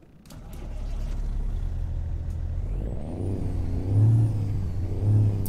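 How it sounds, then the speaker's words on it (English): A Kenworth W900B truck engine starts up in American Truck Simulator, cranking into a loud steady rumble with rising revs and a faint high whine over it. "There's your engine sounds."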